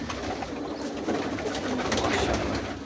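Pigeons at a breeder's loft coo steadily and continuously, a soft, close murmuring chorus of several birds with no talking over it.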